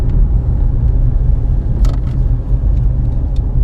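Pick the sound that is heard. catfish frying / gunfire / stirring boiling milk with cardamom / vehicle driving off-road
vehicle driving off-road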